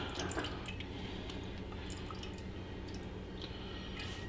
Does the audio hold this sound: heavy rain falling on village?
no